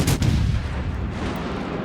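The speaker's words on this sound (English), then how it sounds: "We're now spotted, so we might as well open fire." Naval artillery fire from warship guns in World of Warships: Legends, a loud booming salvo at the start followed by a rumbling, roaring tail that fills the rest of the moment.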